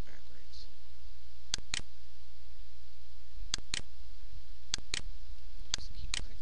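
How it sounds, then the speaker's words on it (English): Computer mouse clicks while tracing an outline with a photo-editing pen tool: sharp, close clicks, usually in quick pairs, repeating at a steady pace over a low constant hum. "Just keep clicking."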